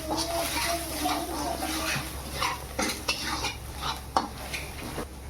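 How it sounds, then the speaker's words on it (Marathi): Asafoetida and turmeric being mixed into spices in a pan for katvada, with repeated metallic spoon scrapes and clinks over a low sizzle, close and fairly busy throughout. "हे सगळं मिक्स करून घेऊ आपण"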